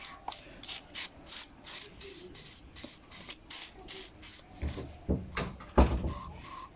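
Repeated short hissing bursts of WD-40 sprayed into a Dolmar LT 250 string trimmer part during repair, about a dozen quick rhythmic puffs close up, with a few louder knocks near the end.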